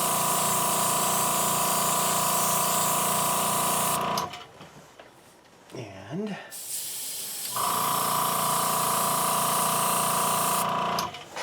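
An airbrush sprays Tamiya paint onto a Star Trek refit Enterprise model, a steady close hiss in two long passes separated by a quieter pause with brief handling sounds.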